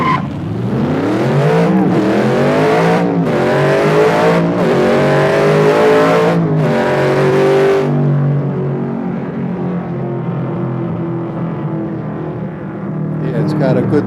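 A race car in the Assetto Corsa driving game revs hard through repeated upshifts, each pitch climb cut by a brief gear-change gap, then settles into a steady engine drone that fades lower toward the end.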